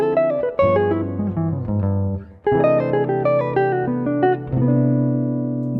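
A clean, warm jazz guitar plays a flowing single-note bebop line, with steady connected notes and a brief dip before the phrase resumes, solo and close.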